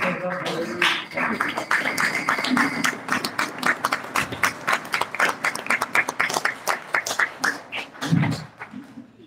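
Audience applause for a lecturer on brain health, dense clapping rising and falling over about nine seconds, fairly close, with a brief voice near the start and a low thump near the end.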